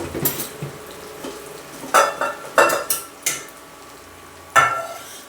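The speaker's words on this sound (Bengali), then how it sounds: "ধুয়ে এই কষানো মশলাটার মধ্যে আমি চালটা দিয়ে দেব" Washed rice is stirred into a cooked spice paste in a pan, giving several sharp scraping and clattering strokes of a utensil against metal with soft sizzling between them, close and otherwise quiet.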